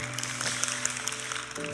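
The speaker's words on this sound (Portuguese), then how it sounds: "Uma salva de palmas para Leidson Jackson" Audience at a photography talk gives a faint round of applause for the speaker, scattered claps over a steady tonal hum.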